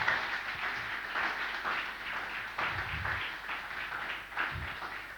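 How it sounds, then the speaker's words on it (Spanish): Congregation applauding the Lord at an Easter Sunday church service, a fairly soft, sustained patter of many hands clapping at a distance, swelling slightly in places with no voices over it. "Dale un aplauso al Señor."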